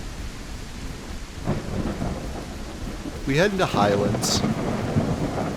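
A thunderstorm rolls in within a dinosaur survival video game played as a Carnotaurus, with steady rain hiss and low rumbling thunder under someone talking.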